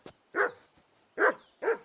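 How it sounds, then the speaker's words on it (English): A dog named Mutt in the video game Kingdom Come: Deliverance 2 barks three times, close and loud, in sharp separate bursts with short quiet gaps between them. "that mutt of yours to stop barking"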